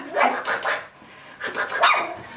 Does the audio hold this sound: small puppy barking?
yes